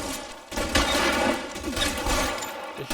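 Gunshots in LA Noire, a dense burst of overlapping loud shots and gunfire noise spread over a few seconds, up close and without speech.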